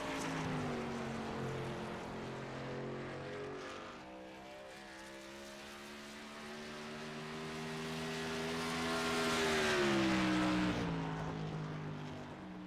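A race car comes off turn 4 during a qualifying lap at Legacy Phoenix. Its engine drones steadily and then swells louder and higher as it accelerates past, without talk over it.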